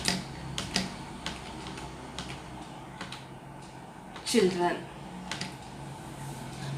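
Light clicks of a computer keyboard as text is typed into a drawing program, scattered and irregular, sounding under a voice that speaks briefly.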